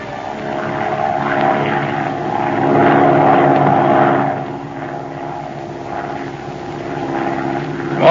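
An airplane engine sound effect from an old-time radio drama drones steadily, with a loud, low propeller hum that swells and eases over eight seconds and no dialogue over it.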